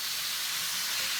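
Apples cooking down in a cast iron skillet for an apple crisp, giving a soft, steady hiss and faint sizzle, quiet and continuous with no talk.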